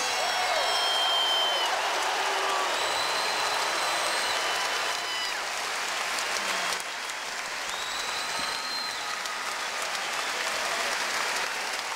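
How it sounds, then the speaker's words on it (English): A basketball arena crowd gives a sustained ovation, steady loud applause and cheering filling the whole stretch, with faint whistles and shouts on top. "As promised, another ovation."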